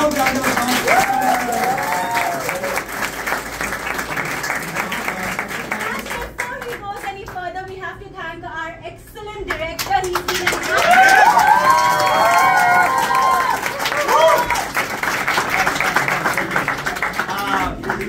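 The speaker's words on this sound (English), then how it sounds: "So, a loud round of applause." Loud, sustained applause from a theatre audience with cheering and whoops, thinning briefly in the middle before swelling again, with voices calling out over the clapping.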